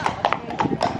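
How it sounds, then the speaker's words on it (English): Large horses walk along a street in Amsterdam. Their hooves clip-clop close by in a quick, uneven rhythm of sharp knocks. "These horses are big."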